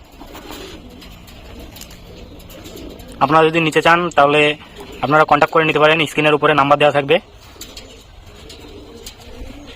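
Jiriya pigeons coo softly in a loft, low and steady in the background while someone talks loudly over much of it.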